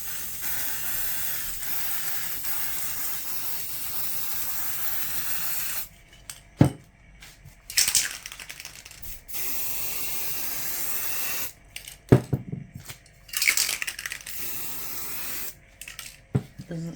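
A paint spray nozzle fires onto a canvas in loud, steady hissing bursts: one long continuous spray, then several shorter bursts with quiet pauses between them.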